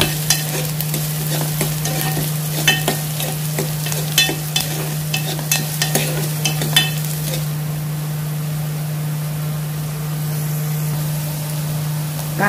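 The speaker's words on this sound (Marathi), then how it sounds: "मिरच्या, आणि कांदा। आपलं तेल चांगलं तापलेलं आहे त्याच्यामुळे पटपट टाकायच्या सगळ्या गोष्टी।" Green chillies and chopped onion frying in hot oil, a steady loud sizzle close by with frequent scraping clicks of a spoon stirring the pan, the clatter easing off near the end while the sizzle continues.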